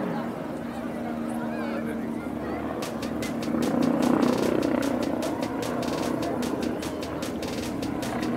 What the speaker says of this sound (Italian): il pilota dell'elicottero che è un Boeing 105 Mirko Fly